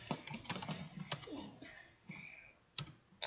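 Rapid clicking of a computer keyboard typed into a chat during a Skywars game with friends: quick, irregular keystroke bursts, fairly close and moderately loud, with a brief pause partway through.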